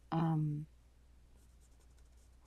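A plain HB pencil scratches faintly across paper in light, sparse strokes after a brief burst of voice.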